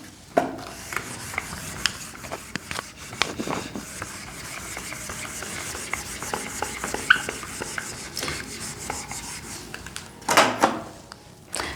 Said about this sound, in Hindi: इसको एक बार रब कर देती हूँ।